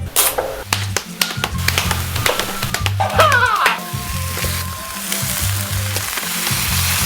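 Small peppers sizzle steadily in a hot pan on a gas stove as they are sautéed, a continuous crackling fry with scattered taps and clinks of utensils, plus a low rhythmic hum underneath.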